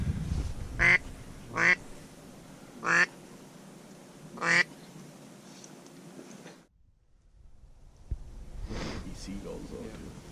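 Ducks flying in over a duck hunt before a big snowstorm give four short, loud quack bursts spaced about a second apart over steady wind and low rumble, then a brief hush and fainter bird calls.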